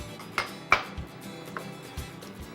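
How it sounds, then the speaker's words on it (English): A spoon scrapes and clinks against a cooking pot while crushed tomatoes and tomato paste are stirred together, a few sharp metallic taps and soft knocks, close and fairly quiet, with no talking. "I'm going to stir that up and incorporate it."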